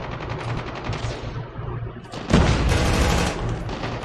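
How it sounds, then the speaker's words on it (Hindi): Machine gun fire in the GTA video game rattles in rapid continuous bursts, close and loud, easing briefly before a heavier, louder burst takes over near the end. "भाई को मशीन गन मिली है।"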